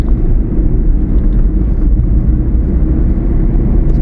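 A 2009 Hyundai i10 accelerating at full throttle in third gear on an open road, heard from inside the cabin as a loud, steady low engine drone with road rumble and no talking.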